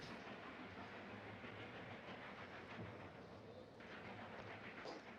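A train rumbles along in 1940s New York, a dense, steady roar of rolling wheels and rail noise, faint and uninterrupted throughout.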